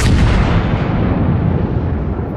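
A booming naval gun salvo from a battleship in World of Warships, loud and close, one heavy blast rolling into a long fading rumble with no talk over it.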